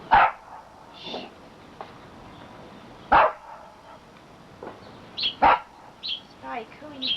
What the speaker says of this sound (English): Spike, who are you barking at?